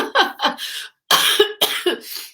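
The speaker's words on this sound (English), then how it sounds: "So excuse me if I cough and splutter." Several harsh coughs in quick bursts, close and loud, with a short pause between groups and no talking.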